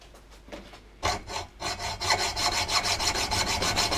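An oil-pressure rear shock absorber being sawn open lengthwise: a few light strokes, then steady, loud rhythmic back-and-forth rasping of the blade, close up with no talking.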